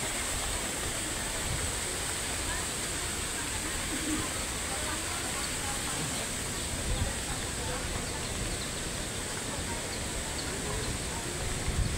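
Tinuy-an Falls in Surigao del Sur, Philippines, pours with a constant, dense roar of rushing water that fills the whole stretch at an even level.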